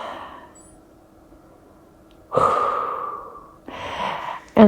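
Deep breathing during a yoga stretch: a slow, close inhale and a long exhale, each rising sharply and then fading over about a second, with a further breath starting at the end and no speech.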